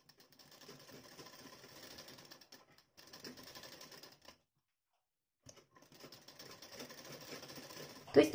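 Sewing machine stitching folded-over excess blouse fabric for a collar-neck blouse, a quiet, even mechanical whir running in stretches with a silent gap midway and a short thump at the end.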